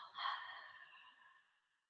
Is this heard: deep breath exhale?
yes